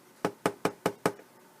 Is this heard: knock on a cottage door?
yes